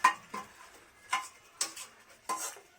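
Spoon stirring paneer pieces into a curry in a pan, five or six sharp metallic clinks and scrapes spaced irregularly, close and fairly quiet with no talk.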